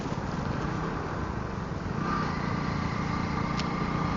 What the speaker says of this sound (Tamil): நல்ல இன்ஜின் வந்து நல்லா ஸ்மூத்தாக இருக்குதுங்க.